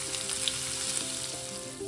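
Ground spice paste for kadhi frying in hot oil in a kadai with cumin, a steady close sizzle and crackle that runs without a break and without talk.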